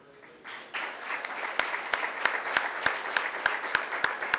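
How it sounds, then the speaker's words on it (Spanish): A church congregation breaks into applause that swells within the first second and continues steadily, with sharp rhythmic claps or percussion hits punctuating it at regular intervals. "Dígame si eso no merece un aplauso al Señor."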